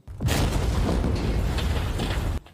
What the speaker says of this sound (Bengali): যেই বিস্ফোরণটা হলো টাকাগুলো পুড়ে গিয়েছে।